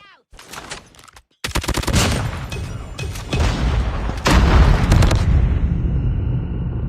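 Grenade blast and bursts of gunfire in the mobile shooter Call of Duty Mobile, loud and dense, with repeated rapid shots and booms layered over a continuous roar of battle.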